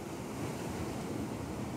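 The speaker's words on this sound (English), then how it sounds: "The crashing of waves, the sound of the waves" Ocean waves at a California beach near a natural rock bridge, a soft continuous wash of surf heard from some distance, fairly faint and steady with no talking.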